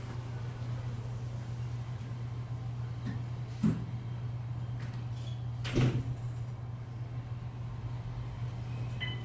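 An elevator door slides shut during a 2015 elevator ride in Charlotte, with two short thumping knocks over a steady mechanical hum and no talking.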